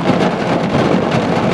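Heavy rain pours down during a thunderstorm near Happy Jack, Arizona, a loud, dense and continuous rush with no talk over it.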